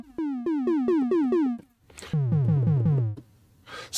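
A Zebra2 software synth tom built from a triangle-waveform tonal component, struck as a run of seven rapid pitched hits with falling pitch, then a second lower-pitched run of about six, with brief noisy bursts between and after.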